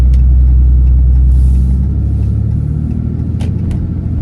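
A 2016 Ram 2500 with the 6.7 engine and Load Lifter 5000 Ultimate Plus airbags drives and turns on the road, a loud steady cabin rumble that eases slightly partway through, with a few faint clicks.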